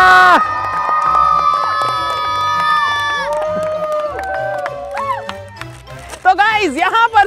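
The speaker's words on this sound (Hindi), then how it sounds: "एक बार सब बच्चों के लिए जोरदार तालियां" Children and adults cheering and shouting at a balloon-popping prize challenge, loud and lively with sustained tonal music-like sounds, excited voices rising and falling throughout.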